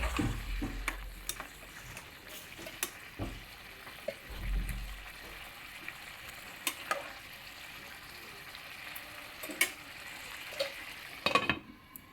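Fried prawns are stirred into a simmering bottle gourd curry, with a soft, steady sizzle under occasional scrapes and knocks of a spoon against the pot, close and fairly quiet, with no talking.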